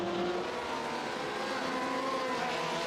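A race car spinning out during a NASA GT Americas round at Sonoma, with a steady engine drone and tire noise running throughout, moderately loud and with no voices.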